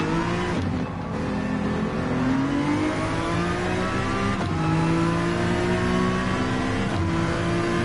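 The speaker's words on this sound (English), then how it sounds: "I love the sound of the Viper" A Dodge Viper engine in Gran Turismo 7 online racing roars loudly and continuously, its pitch climbing through gears with several shifts, with no talk over the sustained, close engine note.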